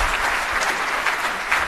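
An audience in Boston applauds to welcome Fed Chair Jerome Powell, steady dense clapping filling the room throughout.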